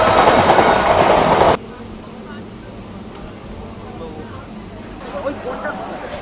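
A loud rush of noise from a local MEMU train between Kharagpur and Digha fills the first second and a half, then drops to a quieter, steady rumble with faint rattling and clatter.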